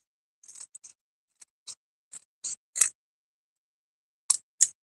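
Scissors snip through paper in a series of short, crisp cuts, irregularly spaced with pauses, close and clear against silence.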